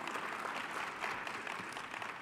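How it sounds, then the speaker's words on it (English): Audience applause at a plenary session on rethinking agriculture, a steady, even clapping from a full room that holds at moderate loudness throughout, with no voices over it. "Let's give them a round of applause."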